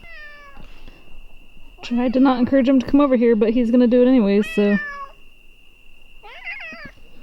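A house cat meows repeatedly, its meows tonal and rising, close by and loud in the middle and faint again near the end, while people talk over it.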